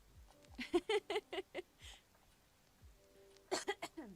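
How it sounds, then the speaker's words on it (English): Two bursts of coughing, several quick coughs each, close and fairly loud, separated by a short quiet pause. "Yeah, see, I just got a little bit of a cough."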